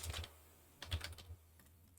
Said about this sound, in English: I'm going to be typing in